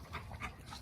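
Dog whimpering indoors, soft high whines repeating several times over less than a second, faint and close.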